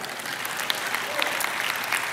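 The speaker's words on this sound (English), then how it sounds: "I trust you are applauding my attempt to pronounce all of those names correctly" A church audience breaks into brisk, even applause during a sermon; the clapping is dense and close and runs steadily for a couple of seconds.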